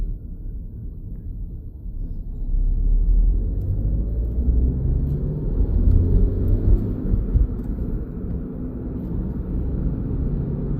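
Suzuki Ignis 1.2 Dualjet SZ-T hatchback with 81k miles, pulling in second gear on a road: a steady, close, low engine drone and road rumble that swells after a couple of seconds and holds level, with no talk.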